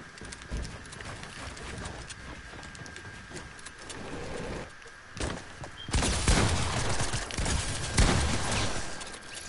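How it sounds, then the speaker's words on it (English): Video game gunfire in a multiplayer match, scattered shots growing into louder bursts in the second half, mixed with galloping hoofbeats and background game noise. "I shot him once."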